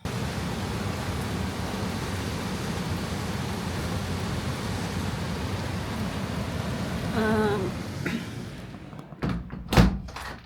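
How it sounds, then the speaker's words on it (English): Heavy rain pouring down at night in the Zillertal mountains in Austria, a dense steady roar with a few dull thuds and a louder crack near the end, no voices. "I saw lightning and thunder and quite heavy rain"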